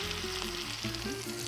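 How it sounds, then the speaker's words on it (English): Stock hits a hot pan to deglaze it, giving a loud, close, steady sizzle and hiss over a low hum for a brief moment, with no talking. "I'm gonna add the stock first so I deglaze the bottom of the pan while it's nice and hot"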